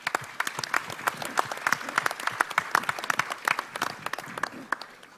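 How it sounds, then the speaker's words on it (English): An audience at a blockchain conference panel breaks into applause, a dense burst of many hands clapping that holds steady throughout, moderately close with no talking over it. "Jason Crilly a round of applause, please."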